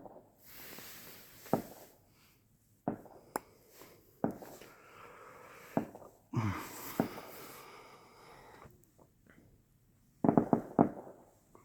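Distant fireworks going off at an outdoor display, a series of sharp booms and crackling bursts spaced irregularly over several seconds, with quieter rumbling and faint background noise between the louder blasts.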